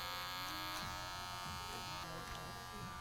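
Electric hair clippers buzzing during a clipper-over-comb taper haircut, a continuous close droning hum with small shifts in pitch as the blade moves through hair.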